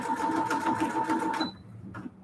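A sewing machine hums and clatters steadily for about a second and a half while sewing a decorative star-style stitch pattern, then stops abruptly, leaving quiet room sound.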